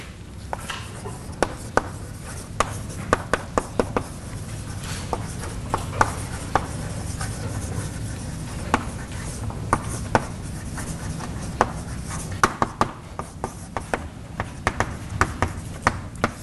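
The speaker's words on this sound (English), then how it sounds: "So let me write down that idea." Marker or chalk strokes on a lecture board come in quick irregular taps and scratches, with a steady room hum underneath and no talking.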